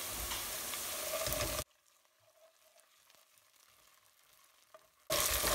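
Green chilies halved lengthwise fry in a pan over medium-high flame with fried onion for a shrimp curry, a loud steady sizzle that cuts out to near quiet for a few seconds and then returns.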